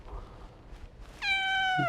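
A cat gives one clear, drawn-out meow inside a parked car, rising sharply after a second of quiet cabin rumble and holding near and loud to the end.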